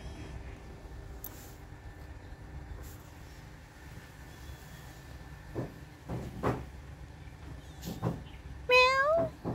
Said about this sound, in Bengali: ও দূর থেকে ম্যাও ম্যাও করলে কি করে হবে